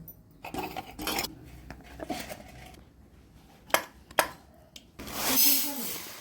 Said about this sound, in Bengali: এবার এগুলো বাটবো, খুব ভালো করে বেটে নেব